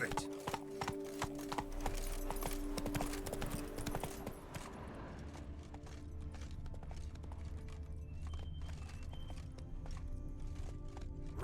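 The horse Roach galloping in The Witcher 3: Wild Hunt, a rapid, steady clip-clop of hooves, fairly quiet under game ambience, with a voice speaking briefly.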